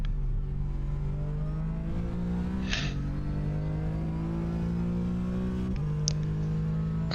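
A GT4 race car engine drones steadily on the Sandown circuit in iRacing, holding a loud, even tone that dips and climbs again at two gear shifts.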